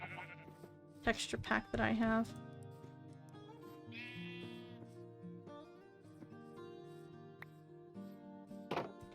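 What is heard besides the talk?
sheep bleating in Minecraft video game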